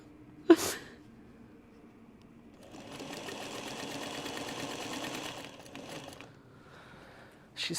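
A Juki sewing machine machine-binds a quilt, running in one steady buzzing stitch burst of about three seconds after a sharp thump, then briefly stuttering before stopping, close up.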